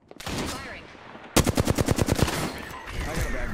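Gunfire in the video game Apex Legends: a short burst early, then a loud rapid automatic string of about a dozen shots, followed by further firing as the fight continues.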